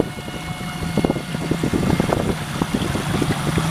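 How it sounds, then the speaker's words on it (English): A Beavertail Mosquito boat's outboard-style engine idles steadily on the water, a low continuous rumble with choppy bursts and light wind noise, close to the microphone and without talk. "Just for starting off, see the engine runs."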